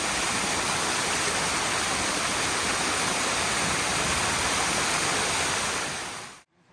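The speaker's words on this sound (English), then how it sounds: "The fall here is a small one, but one can trek higher to see the water cascading from larger heights." A small waterfall in the Gandhamardan Hills pours in a steady, loud, close rush of broadband water noise that holds unbroken for about six seconds before cutting off abruptly.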